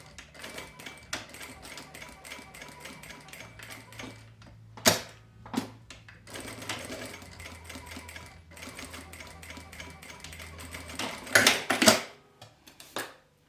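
Sewing machine stitching a half-centimetre seam along the edge of folded fabric for a pencil case, running in bursts with short pauses and a few sharp clunks near the end.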